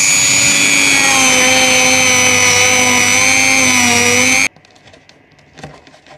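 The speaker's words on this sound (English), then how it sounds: "here is another one of those good to have tools. The Dremel." A Dremel rotary tool whines at a steady high pitch for about four seconds, loud and close, then stops abruptly, leaving faint handling noises.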